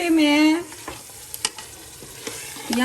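Mutton frying with lentils in a pan for daal gosht, with close scraping stir strokes and a soft sizzle. Brief tonal squeals sound at the start and end.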